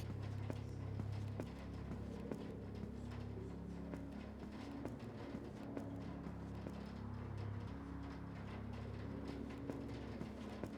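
Steady, evenly paced footsteps in the game Sealoader, quiet and clicky over a low droning background hum.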